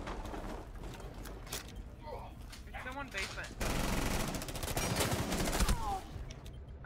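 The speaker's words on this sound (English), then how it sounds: "Got shot in the back by my own teammate!" Rapid gunfire crackles through a multiplayer shooter game, bursts growing louder and denser in the second half amid scattered voice chatter and other game noise.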